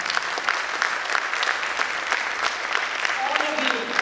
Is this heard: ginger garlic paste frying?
no